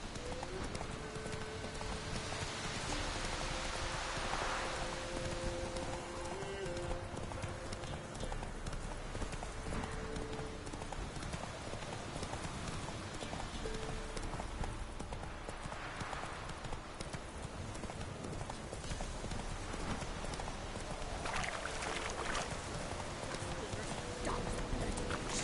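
In the video game The Witcher 3, a horse's hooves clip-clop steadily at a walking pace across the whole stretch. Quiet game ambience and occasional voices sit underneath.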